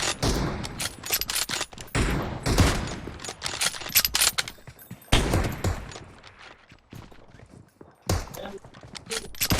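Rapid bursts of automatic gunfire in PUBG Mobile come in dense, loud volleys separated by brief pauses, with footstep-like clatter between them and a voice talking now and then.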